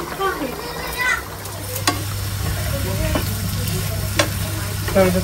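Bitter gourd fries in a pan with a steady sizzle and occasional stirring scrapes and clinks, while children's voices and chatter carry faintly in the background.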